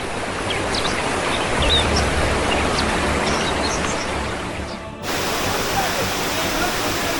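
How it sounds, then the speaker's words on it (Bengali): Heavy monsoon waterfall on a forest trail, a dense, steady roar of rushing water that stays loud and continuous throughout, shifting slightly in tone partway through. "ঝর্ণা।"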